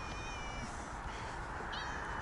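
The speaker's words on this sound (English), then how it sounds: "Hello, friendly British cat." A friendly British cat meows a few times, short high-pitched calls that rise over steady, noisy outdoor background sound.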